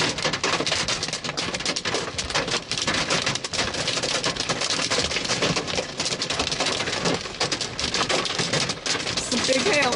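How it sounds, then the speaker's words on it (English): Big hail pounds down during a supercell storm in Kansas, a dense, loud, continuous clatter of stones striking surfaces, with a voice speaking briefly over the din. "Some big hail in there, all right."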